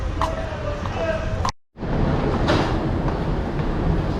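A metro train in İzmir rumbles with broadband roar and rattling, briefly cut off, then resumes amid station noise and faint voices.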